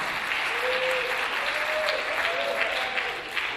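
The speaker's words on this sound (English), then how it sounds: "you can clap, don't be shy" An audience claps steadily at a choir performance, a dense, even patter of many hands that holds for several seconds and fades slightly at the end.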